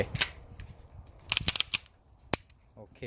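The slide of a compact 9 mm BUL SAS II Tactical Light Weight pistol, modified for competition, being racked to clear the gun, a few sharp close metallic clacks and clicks between quieter handling noises.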